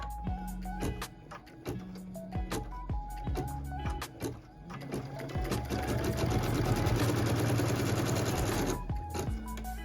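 A computerized embroidery machine stitches a line on a quilt fabric piece held in a hoop, first with scattered mechanical clicks and knocks, then a loud, fast, continuous whirring chatter of needle strokes before slowing.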